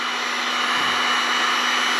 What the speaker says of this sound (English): This is a heat gun, so it does get a lot hotter than a blow dryer